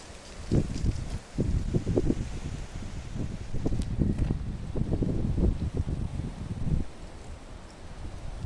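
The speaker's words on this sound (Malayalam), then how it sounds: "കാറ്റ് നല്ല അടിപൊളി കാറ്റ്" Steady outdoor wind roars and buffets the microphone in gusts on a hillside in Italian woods, with a rustling, blustery texture throughout and no voices.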